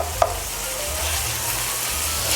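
Tomato paste being added to a hot frying pan and stirred, a steady sizzle with a short scraping tap near the start and soft stirring scrapes continuing close by.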